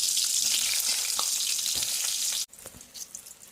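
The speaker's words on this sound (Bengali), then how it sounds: "লাল লাল করে ভেজে নেব বেগুনটা।" Eggplant pieces rubbed with salt and turmeric fry in hot oil with a loud, steady, close sizzle. It suddenly drops to softer, sparse crackling near the end.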